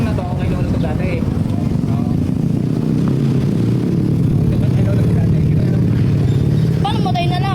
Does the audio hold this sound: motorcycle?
yes